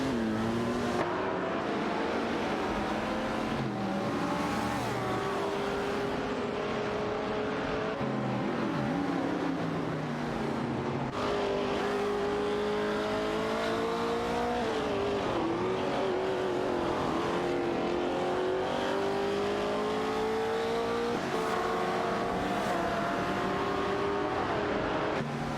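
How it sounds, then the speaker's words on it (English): Several race cars in an AI racing video game, including a Ferrari 250 GTO, rev and whine continuously with shifting engine pitch as they overtake, loud and close throughout with no talk. "Red Panama piloting a Ferrari 250 GTO"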